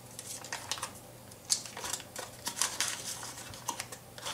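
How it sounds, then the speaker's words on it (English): A stick of butter is unwrapped by hand, its wrapper crinkling and rustling up close in a series of short, irregular crackles over a low steady hum. "All you have to do is unwrap the butter."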